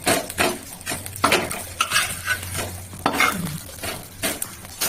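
Patishapta, a folded crepe filled with coconut and jaggery, fries in ghee in a pan, with soft sizzling and repeated scraping and stirring of a utensil against the pan, close and fairly quiet.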